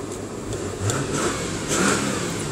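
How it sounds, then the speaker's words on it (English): A Subaru Legacy 3.0 automatic with a 250 bhp engine is blipped twice, each short rise in revs swelling over a steady idle heard from nearby. "Perky as you like, really nice 250 brake horsepower engine there. Blippable, sounds really nice."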